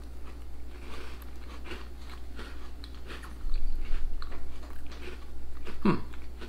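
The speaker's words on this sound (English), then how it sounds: "the biscuit seems crunchier" Someone bites and chews a crunchy Tim Tam chocolate biscuit up close, with faint crunches and mouth sounds and a sharper bite near the end.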